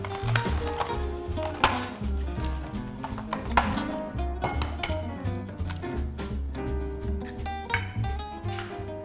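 Minced meat for kufta is mixed with an egg in a bowl, giving irregular clinks and knocks of a utensil against the dish, close up, with soft squelchy movement between the strikes.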